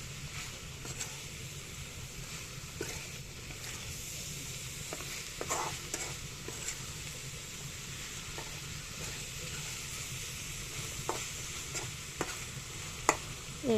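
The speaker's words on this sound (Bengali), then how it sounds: "লতিগুলি দেওয়ার পরে আমি ভালো করে এগুলো নেড়ে ছেড়ে, যেহেতু মশলাটার গায়ে লাগে ওইভাবে নাড়াচাড়া করব।" Taro stems are stirred through spices in a pan with dried fish and ground coconut, giving a quiet, continuous sizzle with scattered spatula clicks and scrapes, close by and without speech.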